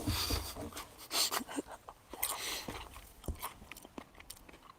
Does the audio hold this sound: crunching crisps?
yes